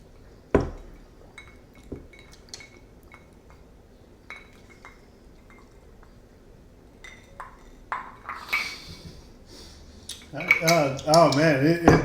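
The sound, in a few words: glasses clinking in a tequila toast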